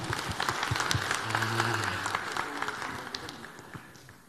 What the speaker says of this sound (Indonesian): kita beri aplaus bersama